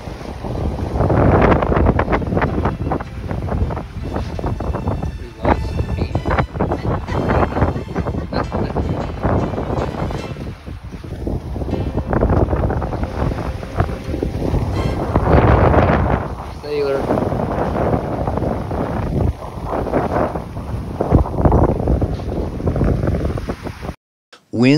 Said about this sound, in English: the sound of the wind screaming through the rigging